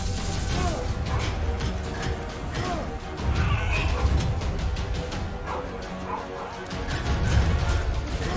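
A dog barks and yips in short bursts during a game of Curse of the Dead Gods, mixed with game sounds and a clattering crash. It sits at moderate loudness through dense, busy background noise.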